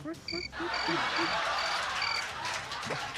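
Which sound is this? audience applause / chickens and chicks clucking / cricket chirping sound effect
cricket chirping sound effect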